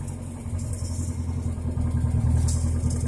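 A car engine, switched over to its gas fuel system, is held at high revs as the clutch is released, producing a steady, close droning roar that swells slightly in loudness.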